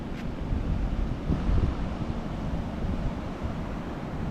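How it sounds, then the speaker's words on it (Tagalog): High ocean waves surge steadily beside a northern Luzon coastal road, a continuous low roar of surf mixed with heavy wind buffeting the microphone, with no voices. "Grabe alon eh."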